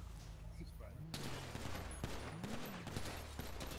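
Rapid video game gunfire, a steady crackling fusillade under a low engine-like drone, with a voice speaking over it.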